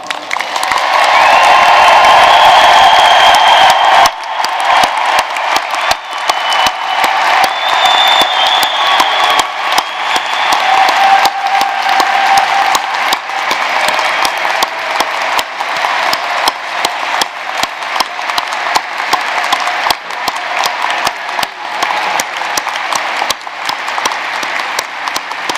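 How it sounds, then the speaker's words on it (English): Large audience at a university commencement ceremony for new veterinary graduates breaks into loud, sustained applause, a dense wash of clapping with some cheers that carries on steadily for over twenty seconds. "please join me in recognizing the accomplishments of the class of 2022, the world's newest veterinarians, with a thunderous round of applause."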